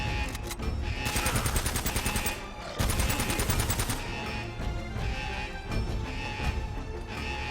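Rapid automatic gunfire crackles through a cover-based firefight in Uncharted: Drake's Fortune, with loud, tightly spaced bursts that pause briefly and resume, carrying on steadily without speech.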